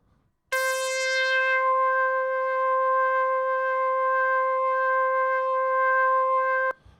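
A SuperCollider lead synth patch holds one steady, bright sustained note for about six seconds, starting abruptly with a brief buzzy attack and cutting off cleanly, loud and alone.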